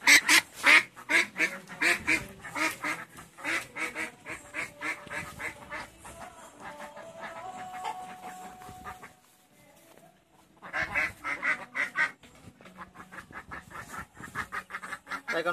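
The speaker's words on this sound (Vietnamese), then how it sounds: "Đây là con vịt ba chân này." Repeated loud quacks from a three-legged duck in rhythmic bursts, close by, with a quieter pause midway before the quacking resumes.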